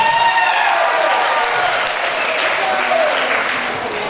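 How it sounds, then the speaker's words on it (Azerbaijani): Applause for graduating students at a village school's last-bell ceremony in Qusar, sustained loud clapping from an indoor audience that continues evenly for several seconds. "Gəlin onları alqışlayaq."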